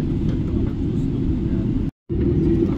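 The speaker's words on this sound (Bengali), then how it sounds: "আমাদের বিমানটি বোর্ডিং ব্রিজে লাগানো হচ্ছে" Steady, loud engine roar of a Boeing 777 airliner taxiing to the boarding bridge, heard from inside the cabin, with one brief cutout to silence near the end.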